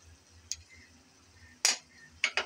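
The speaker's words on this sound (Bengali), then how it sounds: "চিংড়ি মাছ আর আলু একটু নেড়েচেড়ে নিলাম।" Pre-fried shrimp and potato are stirred in a pan, giving a few faint, scattered metallic clinks and scrapes from a utensil against the cookware in a quiet kitchen.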